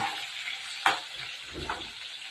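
Onions and bitter gourd fry in hot oil, a steady broad sizzle with a sharp crackle near the start and a stir partway through, close and moderately loud with no talking.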